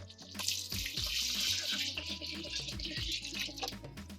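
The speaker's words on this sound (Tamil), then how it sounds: "இப்போ தண்ணி ஊற்றிக்கலாம்." Water is poured into a pot of cooked chicken curry and masala for a Tamil-style biryani, making a steady, splashing gush throughout.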